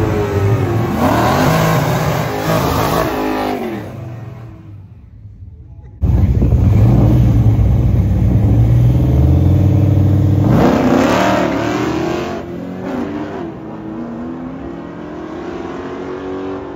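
A Mazda RX3 making a drag racing pass at a dragway, its engine revving hard and climbing through the gears, surging louder midway with rumbling roar and brief lulls at shifts.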